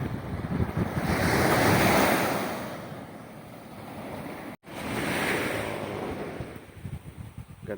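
Sea waves wash onto the shore at Fujairah, a broad roaring surge that swells and recedes, with wind buffeting the microphone throughout.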